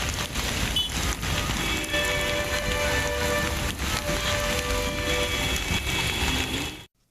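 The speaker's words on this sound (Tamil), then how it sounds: "பெசன்ட் நகர் உள்ளிட்ட இடங்களில் கனமழை பெய்தது." Heavy rain pours down in Chennai, a dense steady hiss of drops drumming on surfaces close by, continuous and loud until it cuts off abruptly near the end.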